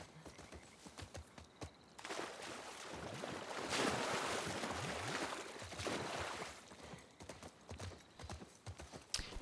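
Steady clip-clop of horse hooves with a soft whinny in The Last of Us Part II, over a broad rushing wash that swells in the middle and then fades.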